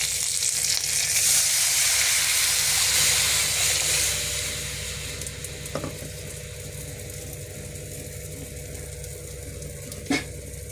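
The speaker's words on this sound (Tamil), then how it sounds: "இப்போ கடுகு பொரிஞ்சிடுச்சு கொஞ்சம் கருவேப்பிலை போட்டுட்டு" Loud, crackling sizzle of curry leaves dropped into hot tempering oil with popped mustard seeds, gradually settling to a steady fry, with a couple of sharp clinks from a utensil.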